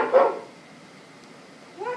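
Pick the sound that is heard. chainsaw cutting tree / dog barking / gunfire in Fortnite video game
dog barking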